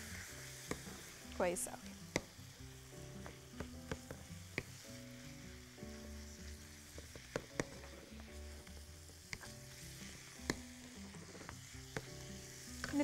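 Food sizzling in a frying pan while being stirred, with scattered utensil scrapes over a soft continuous hiss and a brief spoken remark.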